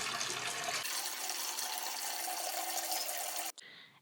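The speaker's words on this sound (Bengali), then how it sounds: "এক ঘন্টা পর কড়াইটি থেকে পানি ফেলে দিয়ে" A new iron wok, soaked in water for an hour before seasoning, is emptied: a loud, steady rush of pouring water lasts about three and a half seconds, then cuts off to a quieter trickle.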